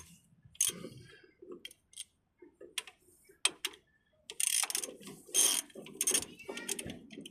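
A ratchet wrench works a bolt loose while the front brakes are replaced on a 2009 Nissan Versa 1.6L, giving bursts of close clicking and metallic mechanism noise with short pauses between turns.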